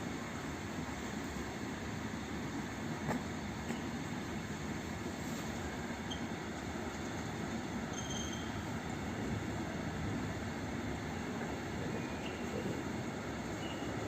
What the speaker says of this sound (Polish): Jaki ten skład jest długi? Już przez dwie minuty się ciągnie.